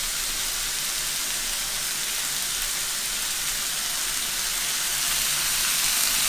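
Frozen vegetables fry with a splash of oyster sauce in a hot pan, giving a steady, bright hiss and crackle that stays loud and even throughout, with no talking.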